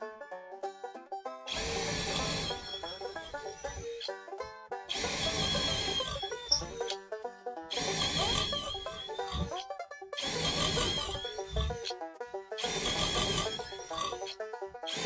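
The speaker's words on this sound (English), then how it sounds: "We're going to start it off first with a Montana 1/4 inch brand new twist bit, speed 2, and in drill mode" A brand-new Montana 1/4 inch twist bit in a drill set to speed 2 bores into ordinary 2x lumber, giving five loud whirring bursts of a few seconds each, divided by short pauses.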